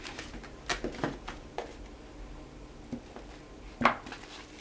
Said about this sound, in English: Into the pot goes my oxtails.